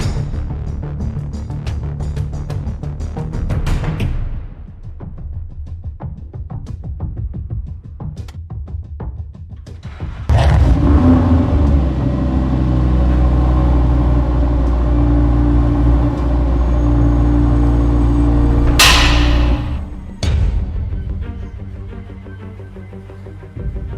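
A powerful car engine cranks and catches, settling into a deep, loud idle rumble, then revs hard twice with a brief drop between, alone with no talk.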